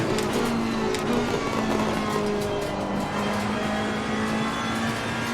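A loud, steady engine roar with shifting pitch from a Mercedes-AMG race car in Assetto Corsa Competizione at Brands Hatch, accelerating and holding speed, continuous with no pauses.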